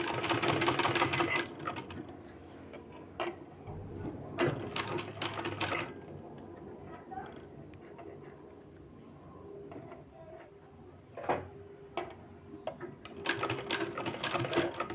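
A sewing machine stitches a sleeve in soft, uneven runs with clicks and rustling fabric handling between the bursts, heard close and fairly quiet.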